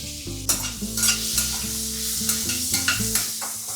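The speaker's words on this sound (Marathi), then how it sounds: "तेजपत्ता मस्त आता रोस्ट परतून घेऊया." Onions and bay leaf sauté in a hot pan, giving a steady close sizzle broken by repeated stirring scrapes, with a low tonal hum running underneath throughout.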